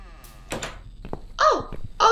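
A door opens as a character enters in the video game The Cat Lady, with a few sharp thunks and creaky scraping sounds spaced across a couple of seconds.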